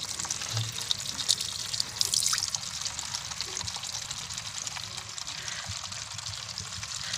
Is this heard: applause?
no